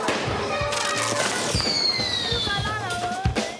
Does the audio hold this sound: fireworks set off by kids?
yes